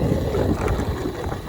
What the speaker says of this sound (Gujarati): આ વાયરો હેરાન કરે.